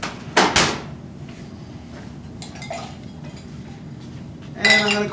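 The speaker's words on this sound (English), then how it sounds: "I'm going to get a couple more ice cubes." Ice cubes are dropped into a cold water bath in a chemistry lab, with a sharp clatter near the start and another burst of clinking at the end, separated by quieter handling noise.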